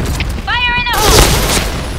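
A grenade goes off in the shooter game Point Blank, a heavy booming blast that swells after a short shouted voice line and then rolls out as a noisy rumble.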